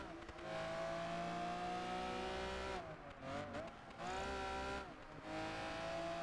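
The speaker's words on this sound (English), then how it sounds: "These go-kart cars are so quick around the tight corners." A go-kart racer in Project Gotham Racing 4 screams along with a loud, steady engine note, rising and falling through brief dips as it shifts and corners, with faint tire squeal and no talking.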